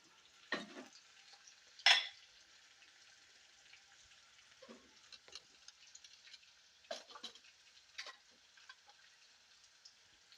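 Peppercorns and asafoetida fry in hot ghee or oil for a pongal tempering, giving faint, scattered sizzles and pops with occasional stirring scrapes, close and quiet with no talk.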